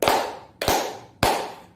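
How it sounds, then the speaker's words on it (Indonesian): A group claps in unison exactly three times, evenly spaced about half a second apart, to close a student orientation event at a junior high school in Medan. Each clap is sharp and loud with a short fading tail, and no voices are heard. "marilah kita tepuk tangan 3 kali untuk mengakhiri acara MPLS ini"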